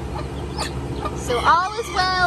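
Chickens in a coop cluck and squawk in short, nearby bursts, rising in pitch, while a person speaks over them.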